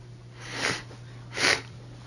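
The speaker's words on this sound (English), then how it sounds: "so I apologize for the sniffles" Two distinct nasal sniffles from a person with a cold, evenly spaced about a second apart, close and fairly soft over a low steady background hum.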